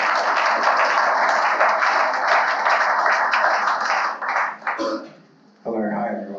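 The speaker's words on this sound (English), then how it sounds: "please join me in giving a round of applause to Daniel" Applause at a Python programming meetup in Melbourne greets a speaker as he is handed the floor. Dense clapping runs steadily for several seconds, then thins and dies away, and a voice starts talking at the end.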